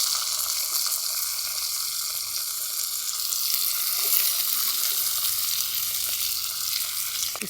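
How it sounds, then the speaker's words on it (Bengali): Beans and potatoes fry in hot oil in a home kitchen pan after cumin seeds, giving a steady, close, continuous sizzle with crackling that never lets up and no voices. "শিম আর আলুটা একটু ভাজা ভাজা করে নেব।"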